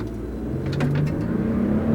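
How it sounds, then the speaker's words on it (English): A turbocharged 389-horsepower Toyota Tundra pickup accelerates hard along a straight road, its engine drone steadily rising in pitch and loudness for about two seconds, heard from inside the cab with no talk. "The turbos are kicking in. It's got plenty of acceleration"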